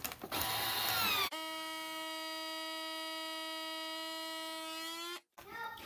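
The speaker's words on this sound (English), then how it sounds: "the last step on this day here is just to go ahead and vacuum seal" A vacuum sealer runs on a bag of cured beef seasoned with Montreal steak spice, a steady, close electric hum with strong tonal whine that holds for several seconds, then cuts off abruptly.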